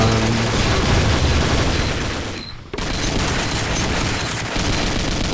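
An M21E gun fires in the Combat Arms video game: loud, dense bursts of rapid shots that drop out briefly midway, then pick up again at full intensity.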